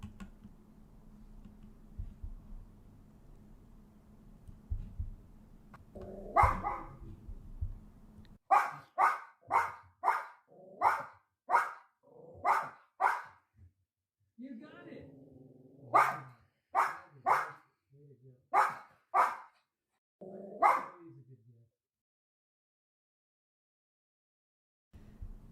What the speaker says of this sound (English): Here's Petey barking at Wordle.